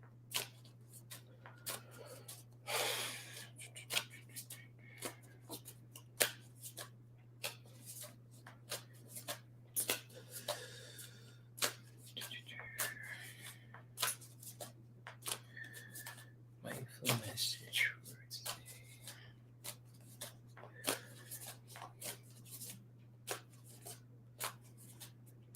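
Soft, repeated riffling and flicking of a deck of cards being shuffled, with occasional sharper snaps over a low steady hum.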